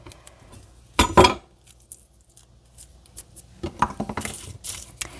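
Garlic cloves clatter into a pot off a cutting board, a sharp burst of clinks about a second in and a scattered run of small knocks and taps toward the end, close and fairly loud with no speech.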